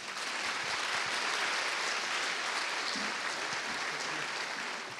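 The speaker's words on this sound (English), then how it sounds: "So please welcome, with a big round of applause, Bernard Chipin." An audience at an architecture lecture claps in a dense, steady burst of applause for the lecturer, sustained for several seconds without talk.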